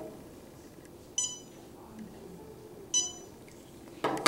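A KDC300 Bluetooth barcode scanner gives short electronic beeps while scanning barcodes, two crisp chirps a couple of seconds apart and a third near the end, over quiet room noise.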